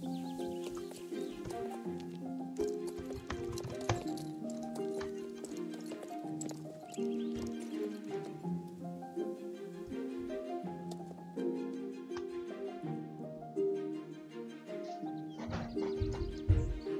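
Finnhorse hooves clip-clop in an irregular rhythm over a sustained, steady tonal background for a long stretch, growing more hurried and louder toward the end as the horse starts to gallop, with no talk.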